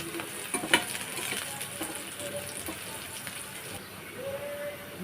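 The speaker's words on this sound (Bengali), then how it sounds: "এখন আমি খুব ভালো করে একটু ভেজে নিচ্ছি তেলের উপরে" Dried chillies, whole garlic cloves and chopped onion fry in hot oil, giving a steady soft sizzle with a few brief stirring knocks near the start.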